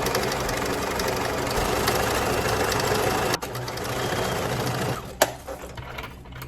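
Sewing machine stitching down folded curtain fabric, a loud steady mechanical whir close by that cuts out briefly, resumes, then stops with a sharp clack and a few small clicks.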